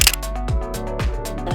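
A Canon 6D camera shutter fires in a quick mechanical clack, repeated in a steady rhythm of about four or five shots, close and crisp, with no voices.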